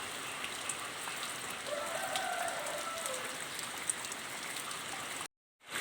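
Constant patter of night rain with a faint rooster crowing in the distance, then a brief cut to silence near the end.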